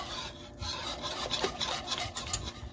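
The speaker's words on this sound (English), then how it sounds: "Give this a stir." A spoon scrapes and swirls through thickened she crab soup as crab meat is stirred into the pot, a soft repeated rasping close by with no talking.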